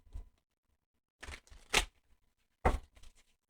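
A deck of tarot cards being shuffled up close, three quick papery riffling bursts separated by short quiet gaps.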